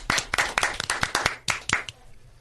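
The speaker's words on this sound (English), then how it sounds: "One more round of applause" A small crowd at a meadery gathering gives one more round of applause, a few brisk scattered bursts of clapping from nearby hands that fade out near the end.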